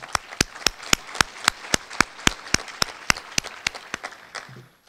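Slow, evenly spaced single claps ring out one at a time with a clear reverberant tail, about three per second, at a Garland ISD school district awards ceremony, fading slightly toward the end.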